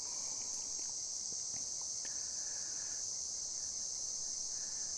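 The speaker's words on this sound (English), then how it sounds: "Cicadas are everywhere. I wonder if the mic picks them up." Cicadas in summer outdoors before a storm, a continuous high-pitched buzzing drone that holds steady throughout, with a few faint scattered clicks and soft knocks in the background and no talking.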